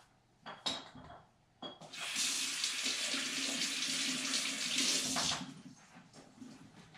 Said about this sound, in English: The next thing I'm going to do is wash my tomato.